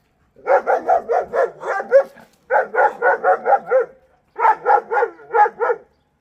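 Dogs at a vet appointment bark in rapid bursts of several sharp barks, three clusters separated by short pauses, close and loud with no talking.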